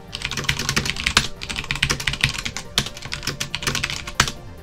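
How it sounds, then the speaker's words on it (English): Rapid, steady typing on a computer keyboard, dense clacking keystrokes close up with occasional heavier key presses, no voices. "Okay, so you're done typing."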